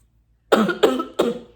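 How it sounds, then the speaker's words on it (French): Three quick, harsh coughs in close succession, loud and near, with silence before them. "je tousse"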